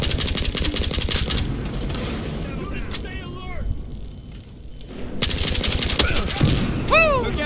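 Bursts of automatic gunfire in the heist shooter Battlefield Hardline, during a bank robbery map, heavy rattling volleys at the start and again toward the end with a quieter lull between, voices shouting over it.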